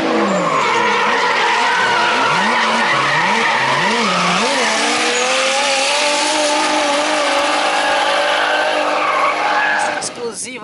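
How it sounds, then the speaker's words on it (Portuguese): Drift cars at a closed invitation-only drifting event in Brazil, including a Skyline, skid with loud, sustained tire squeal and wavering engine revs that run continuously and up close throughout. "Daqui a pouco, aqui atrás de mim, vai começar o drift."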